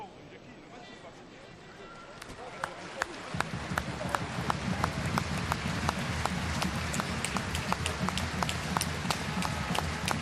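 A rugby stadium crowd in Oyonnax applauds an injured player carried off on a stretcher; after a quiet start, sustained clapping swells in at about three seconds and continues steadily, with sharp individual claps standing out near the microphone.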